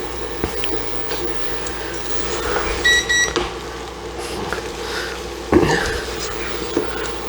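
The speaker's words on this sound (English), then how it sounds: "That beep is because I'm lifting it off the surface of the burner thing." A short, high electronic beep from an induction burner as a pot is lifted off it sounds over kitchen clatter and low background noise, with a few soft knocks and faint voice-like murmurs.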